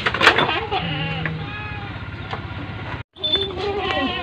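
Goats bleating close by in a livestock pen, with several wavering calls early on and more later, mixed with people talking.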